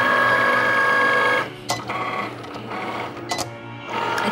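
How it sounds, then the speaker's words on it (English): Vinyl cutting machine cutting an 18 by 36 inch sheet of vinyl for a sign, a close, steady whirring motor hum that drops after a second and a half, then continues with short ticking bursts. "cutting the vinyl for our last big sign for this big guy here"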